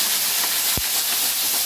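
Water poured into a hot pan of carrots and broccoli gives off a loud, steady hiss of steam, with one brief low thud partway through.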